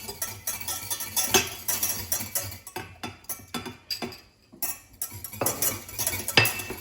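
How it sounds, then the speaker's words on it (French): A utensil stirring sauce in a pan on a warm hotplate, making repeated light metallic clinks and scrapes in an uneven rhythm, close and fairly quiet with brief pauses. "je mets sur ma plaque, je continue à mélanger"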